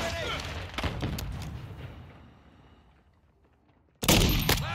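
Sharp gunshots crack from a shooter video game, a dense burst at the start, then a fading tail and a loud new volley near the end, with players talking over the action.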